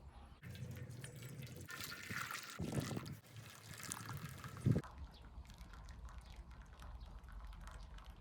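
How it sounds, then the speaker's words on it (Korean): Hot water is poured onto a rusty cast iron pot lid that was sprinkled generously beforehand, a steady faint splashing trickle with a brief thud partway, then a softer running wash, no voices. "넉넉하게 뿌려두고 뜨거운 물을 부을 거거든요"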